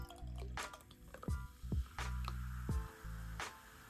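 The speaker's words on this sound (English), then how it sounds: "So let me pour a little bit more." Death Row Records California sparkling wine being poured into a glass, with wet dripping and fizzing sounds broken by a few clinks and squishes, close and fairly quiet, with no talk.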